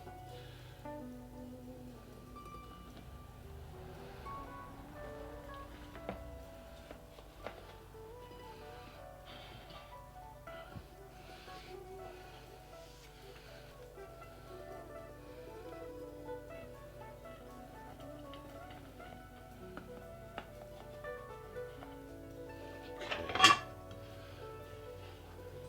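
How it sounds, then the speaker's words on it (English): A knife cutting a slice of lime pie made without key limes, quiet clinks of cutlery and a plate with soft taps scattered through, ending in one sharper clatter near the end. "let's cut a slice"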